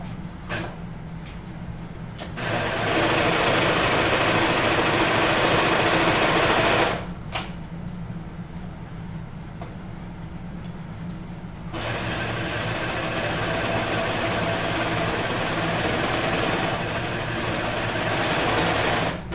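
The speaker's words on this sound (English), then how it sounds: "So I'm gonna serge that real quick." A serger overlocks the facing of a jeans sewing project, whirring in two long loud bursts separated by a quieter stretch of low background hum, with no talk.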